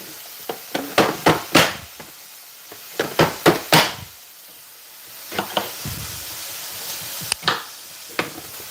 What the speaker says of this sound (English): You just want to get them nice and diced.